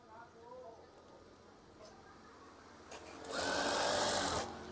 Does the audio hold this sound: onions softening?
no